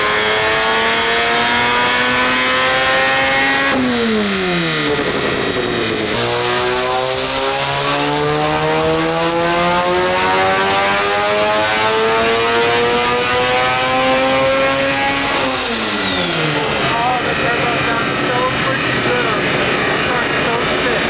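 Rotary-swapped Mazda Miata running on boost, engine revving up repeatedly in long rising sweeps with brief drops between pulls, loud and close with a dense harmonic whine.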